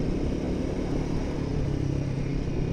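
A Royal Enfield Himalayan 450 adventure motorcycle being ridden gives a continuous, rough engine rumble mixed with wind noise, heard close and steady throughout.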